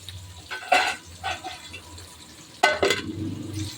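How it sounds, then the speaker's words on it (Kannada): Onion, green chilli and curry leaves fry in a pan, a steady sizzle broken by several stirring scrapes and clatters, close and fairly loud. "ಈರುಳ್ಳಿ ಮತ್ತು ಹಸಿಮೆಣಸಿನಕಾಯಿ, ಕರಿಬೇವಿನ ಸೊಪ್ಪು ಚೆನ್ನಾಗಿ ಫ್ರೈ ಆಗ್ತಾಯಿದೆ"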